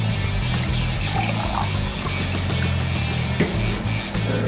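Yellow coloured water streams into a cup during a home color-mixing experiment, a continuous close pouring and trickling sound with a small bump near the end.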